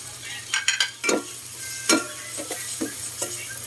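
Tomatoes and miso are sautéed for salmon head sinigang, with several loud spatula scrapes and clatters against the pan over a low, steady frying hiss.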